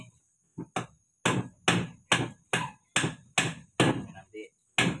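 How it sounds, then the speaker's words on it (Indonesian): Hammer blows drive holes into reclaimed ulin ironwood taken from an old building: about ten sharp, close, loud strikes landing in a fairly steady rhythm with brief silences between them. "Ini kita lubangi."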